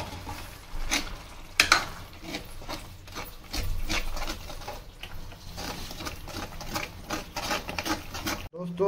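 Pav bhaji masala, amchur and tomatoes cooking in a pan, heard as rhythmic scraping and stirring strokes with a faint sizzle, continuing at an even pace for several seconds.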